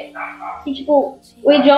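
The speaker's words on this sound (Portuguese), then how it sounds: "Desculpa se você tá escutando os cachorros latindo aqui" Several dogs bark close by in short loud bursts while someone speaks Portuguese over them indoors.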